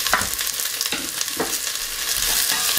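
Carrot frying in a pan, with a constant bright sizzle close up and soft stirring scrapes recurring every half second or so, and no voices.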